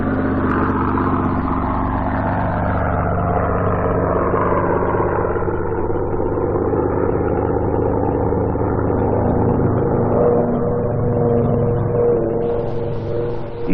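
A twin-engine Aero Commander flies with its left engine stopped and the propeller feathered while it rolls, producing a steady, loud, droning single-engine hum that holds throughout with slight pitch shifts.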